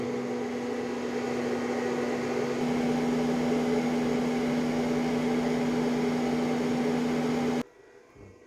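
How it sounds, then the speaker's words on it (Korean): A blower door test fan for an airtightness check on a passive house, steady and loud, whirring with a constant hum and airy rush, running evenly for several seconds before cutting off abruptly to near quiet. "팬이 돌아가고 테스트가 시작이 됐습니다."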